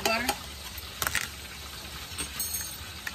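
Butter sizzles in a hot frying pan, a constant hiss broken by a few sharp clinks and stirring scrapes, close and fairly quiet.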